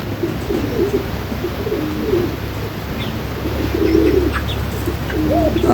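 Pigeons and doves in a crowded loft with eggs and chicks coo repeatedly in low, rolling phrases, with occasional chirps and faint wing flutters, fairly close and without speech.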